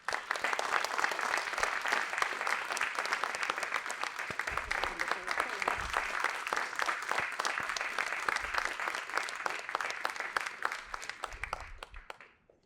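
An audience bursts into sustained applause for a lecturer at a faculty award lecture, steady dense clapping from a large crowd lasting about twelve seconds before quickly dying away.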